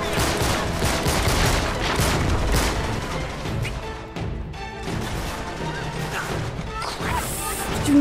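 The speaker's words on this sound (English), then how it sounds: "God, stop throwing grenades at me!" Grenade blasts and gunfire in Uncharted 3: Drake's Deception, a dense, continuous barrage of crashing explosions and rapid shots that stays loud throughout, with a brief dip midway before the chaos resumes.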